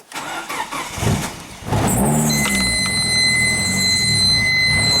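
A Nissan car engine cranks with a rough whirring starter for over a second, catches, and settles into a loud steady idle with a high whine continuing close by.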